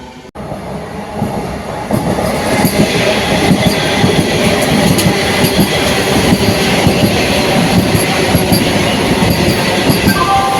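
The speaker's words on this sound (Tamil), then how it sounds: "அரக்கோணம் காட்பாடி மார்க்கத்தில் ஒரு 4 ட்ரெயின் கிராசிங் இருக்குது" Trains on the Arakkonam–Katpadi rail line rumble past close by, a loud continuous roll of wagons with rhythmic wheel clatter and occasional high squeals over about ten seconds, no voices.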